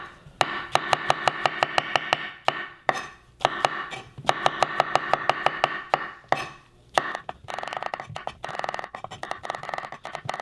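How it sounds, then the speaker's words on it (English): Knife chopping mushrooms on a board, rapid even bursts of sharp knocks in quick runs separated by short pauses, close and fairly loud with no talking. "and then chop, chop, chop, chop, chop, chop, chop"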